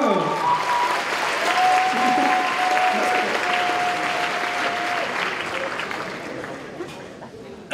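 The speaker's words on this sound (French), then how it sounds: "on l'applaudit encore" A convention crowd applauds a cosplayer at a cosplay contest, producing a loud, sustained wash of clapping that slowly thins, with a faint tone running under part of it.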